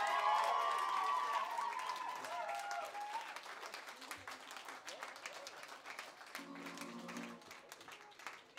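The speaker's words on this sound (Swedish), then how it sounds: "Ge dem en till applåd, kom igen." Audience applause at a Musikhjälpen charity concert party at Kajskjul 46, loud at first and tapering into steady clapping, with some tonal sound and a brief low hum near the end.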